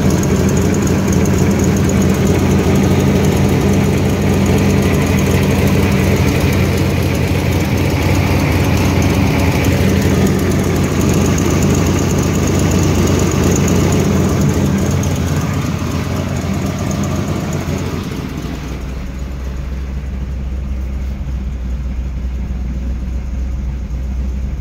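A 1973 Chevy Camaro Z28 V8 idles steadily and close by, a loud, even low rumble that drops in level near the end as the engine note changes.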